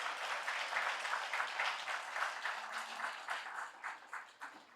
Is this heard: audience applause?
yes